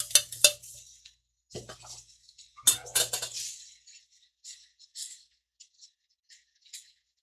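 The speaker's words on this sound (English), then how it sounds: "what I'm going to do is get the mushrooms and throw them in a cast iron pan" Mushrooms tossed into a cast iron pan, landing in a few bright clattering bursts of rattles and clinks, followed by smaller scattered taps and knocks, close and with no voices.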